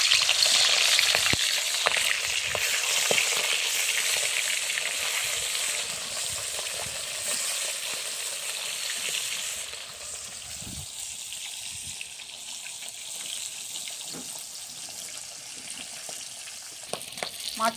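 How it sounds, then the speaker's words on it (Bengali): Fish frying one by one in hot oil in a wok, a steady close sizzle that is loud at first and eases slightly, with occasional small taps and stirring sounds. "আমার কিন্তু কড়াইয়ে তেল গরম হয়ে গেছে, আমি কিন্তু এবার মাছগুলো একে একে ভেজে নেব।"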